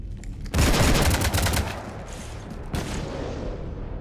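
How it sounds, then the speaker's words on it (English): A sudden loud burst of rapid gunfire erupts in a Mass Effect 3 firefight, rattling for about a second before fading, then a second sharp volley follows with lingering crackle. "You want to stop shooting up my ship?"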